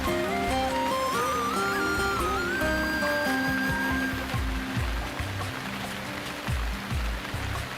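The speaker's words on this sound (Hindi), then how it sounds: "तेज बारिश हो रही थी" Steady, dense rain pours down continuously, with a musical tone drifting over the wash of water.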